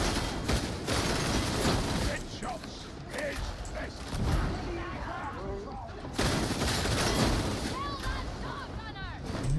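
Gunfire in Warhammer 40,000: Darktide, with rapid bursts and heavy shots over a busy, rumbling combat din, while voices talk throughout.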